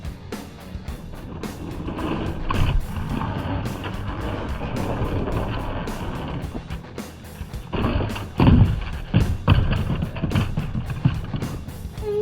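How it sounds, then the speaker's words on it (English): Hot Wheels toy monster trucks, a Dodge Charger and Hall Y'all, race along a plastic track with a close, rattling roll of small wheels that swells and surges near the finish. "now we have the Dodge Charger, the Hot Wheels race with the Dodge Charger and Hall Y'all"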